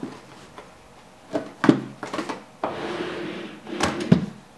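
A wooden vanity table drawer slides open with a few knocks and scrapes, followed by a rustle and a couple more soft thumps at close range.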